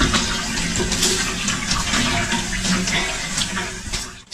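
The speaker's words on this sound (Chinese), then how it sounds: "米娜现在放出来洗手和洗菜的水都是热水器里面放出来的" Water runs steadily from a tap fed by a water heater into a washing sink, a continuous close splashing rush that carries through the whole stretch with slight surges.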